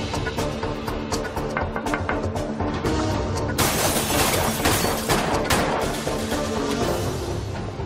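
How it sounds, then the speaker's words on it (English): Gunfire in a dramatized police-shooting reenactment, with three men ambushing an officer's car at night in Jamaica, Queens: dense, loud overlapping shots and crashing bursts filling the whole stretch without pause. "The witness hears the gunshots."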